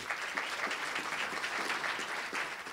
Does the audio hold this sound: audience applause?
yes